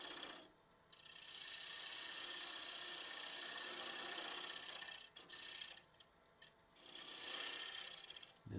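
A lathe tool trues up a tenon on holly wood, a faint, close scraping hiss in several passes separated by short gaps.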